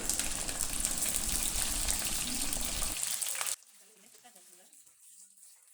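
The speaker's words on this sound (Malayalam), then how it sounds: "കീറി വച്ചിരിക്കുന്ന പച്ചമുളകും അതിനാവശ്യമായ ഉപ്പും ചേർത്ത് നന്നായിട്ടൊന്ന് വഴറ്റിയെടുക്കാം" Green chillies and salt sautéing in hot oil with fenugreek and curry leaves for a green chilli pickle, a loud steady sizzle for about three seconds that cuts off abruptly to a faint, quiet crackle.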